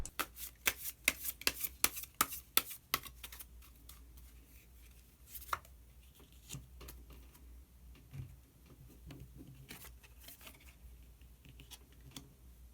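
Tarot cards being shuffled and drawn from a deck, a rapid burst of crisp flicking riffles up front, then scattered softer card slides and taps, close and quiet with no talking.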